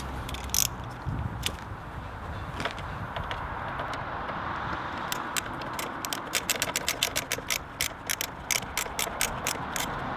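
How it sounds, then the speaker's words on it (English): A ratchet tightens T20 Torx screws on a Mountune airbox in a Ford Fiesta ST. A busy mechanical rumble comes first, then quick runs of sharp, close clicks in bursts through the second half. "we want to tighten that up again, so we go back to our T20 Torx"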